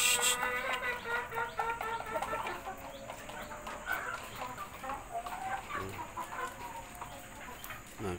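Hens clucking steadily as they eat, a brood hen among them, with overlapping calls and soft cackles from several birds close by over a constant farmyard hum.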